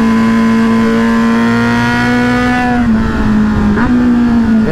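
A Kawasaki Z900 motorcycle engine revs loudly up close, a steady rising roar with a slight dip and a sharp throttle blip near the end, no voices over it.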